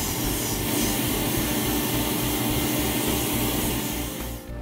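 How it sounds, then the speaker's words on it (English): A vacuum cleaner runs while cleaning the combustion chamber and flue passages of a gas boiler, a loud, steady rushing drone that holds for several seconds before cutting off abruptly at the end. "Clean, brush, and vacuum and inspect flue passageway and boiler combustion chamber."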